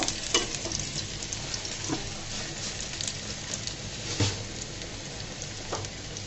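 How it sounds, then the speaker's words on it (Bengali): Small-chopped garlic fries in oil alongside two dried red chillies, giving a steady, moderate sizzle with occasional faint clicks of stirring, close and without voices. "রসুনটাকেও আমি লাল লাল করে ভেজে নিব।"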